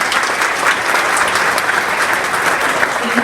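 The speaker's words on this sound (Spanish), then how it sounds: "Un aplauso y les pediría, por favor." An audience at a book presentation applauds in steady, dense clapping that fills the room throughout, loud and continuous.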